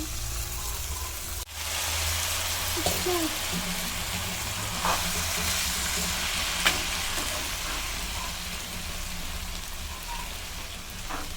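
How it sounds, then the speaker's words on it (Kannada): Boiled Maggi noodles tossed into a hot frying pan, giving a steady broadband sizzle and crackle throughout with a few soft stirring clinks, close and moderately loud. "ಇವಾಗ ಈ ಬೇಯಿಸ್ಕೊಂಡಿರೋ ಮ್ಯಾಗಿ ಹಾಕೋಣ"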